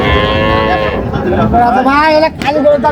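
A dairy cow moos loudly and close by at a cattle market, a long drawn-out call that rises toward the end.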